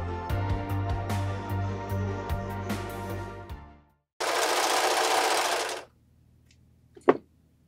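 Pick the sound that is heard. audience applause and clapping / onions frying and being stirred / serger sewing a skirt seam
serger sewing a skirt seam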